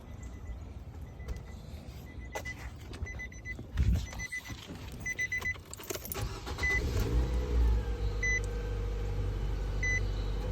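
2013-2019 Nissan Sentra 1.8 (B17) engine starting after a battery replacement: key and chime beeps, a brief crank, then the engine catches and settles into a steady close idle.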